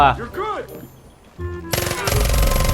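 Gunfire in the video game Far Cry 5, a rapid burst of loud shots cutting in after a voice speaks, continuing to the end.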